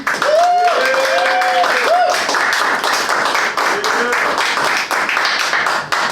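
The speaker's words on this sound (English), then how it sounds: "Please applaud if you would like to see Malia Moss as the champion." Audience at a live show applauding to vote for a champion, dense and steady clapping close by, sustained throughout with scattered cheers and voices over it.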